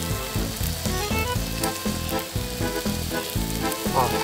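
Mushrooms grill with a loud, dense, continuous sizzle and crackle, close and steady throughout with no talking.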